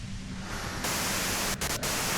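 White noise static in the video game Disco Elysium, a dense continuous hiss that swells louder partway through, with a couple of brief dips.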